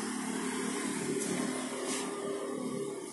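A Yamaha Jupiter motorcycle engine running with a strange rough noise, a steady droning hum with a buzzy, gritty texture, heard close up and alone.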